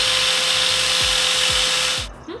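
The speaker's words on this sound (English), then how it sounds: "we're just going to quickly take it down with the angle grinder with the flat disc and sand it smooth" An angle grinder with a flat disc cuts and grinds down a metal bracket on a transmission adapter during a VH45 engine swap, a loud steady whine running close and continuous before cutting off abruptly near the end.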